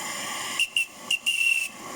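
A home-made steam whistle gives several short blasts, then one longer sustained tone, over a steady background hiss of escaping steam from leaking fittings.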